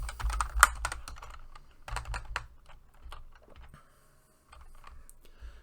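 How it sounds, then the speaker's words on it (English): Keys clacking on a computer keyboard in quick irregular bursts, close and fairly loud, with a short pause before a lighter final run of keystrokes; no one speaks. "And let's just type in welcome."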